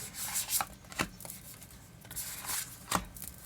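A deck of tarot-style reading cards being shuffled by hand, giving soft, quiet papery riffles and rubs with a few sharper snaps, close and alone without talk.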